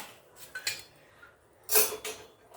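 A freshly cooked millet dosa is lifted off the pan onto a plate, giving a few light clinks and a brighter metallic clatter of plate and utensil, close and brief with quiet gaps between.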